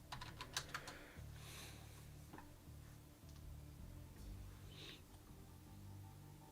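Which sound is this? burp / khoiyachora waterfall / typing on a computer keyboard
typing on a computer keyboard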